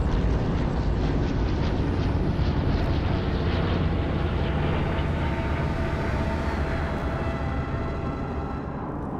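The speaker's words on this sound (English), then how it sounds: "That was a plane and it dropped what looked like supplies" A plane flying overhead in a zombie video game, a loud, dense, sustained engine roar that fills the whole stretch and eases off slightly toward the end.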